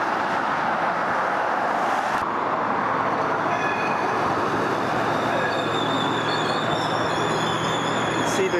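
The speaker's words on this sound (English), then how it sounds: "we're watching a northbound O train heading to Confederation Station" A northbound O-Train light rail train heading to Confederation Station passes near the Airport Parkway overpass south of Bronson. It makes a steady, loud rolling rumble mixed with road traffic, with faint wheel squeal toward the end.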